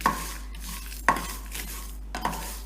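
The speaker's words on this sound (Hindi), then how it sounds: "तो 5 मिनट के अंदर ही मीडियम फ्लेम पर हमारा जो मसाला है वो भुन जाएगा।" Fish masala spices dry-roasting over medium flame are stirred in a pan, giving three sharp spatula scrapes and knocks roughly a second apart over a faint low hiss.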